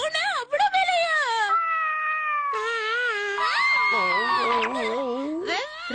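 A cartoon cat imported from abroad meows and caterwauls in long, loud, wavering cries in a Shinchan episode, close and continuous, likely a voice actor imitating the cat.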